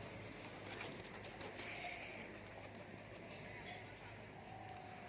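Giribaz pigeons for sale cooing faintly amid a low, steady background hum outdoors, with soft scattered coos and fluttering under distant murmuring.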